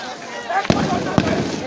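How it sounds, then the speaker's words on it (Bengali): Gunfire during a police clash with students in Khulna: two sharp loud cracks about half a second apart ring out over a constant roar of crowd noise and background voices. "দর্শক কি পরিমাণ গুলি ছুটছে আপনারা"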